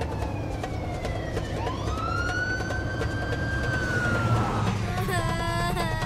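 A police siren in a Vietnamese crime film wails in a rising and falling sweep over steady traffic rumble, growing more insistent toward the end, with overlapping tones.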